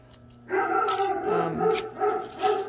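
A dog barks and yips several times in quick, uneven bursts, close and moderately loud, with a whiny edge.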